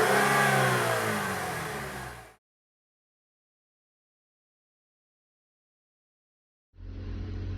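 Chevrolet Equinox engine revving up as the throttle increases, a loud rising roar for about two seconds, then silence before the engine sound returns near the end.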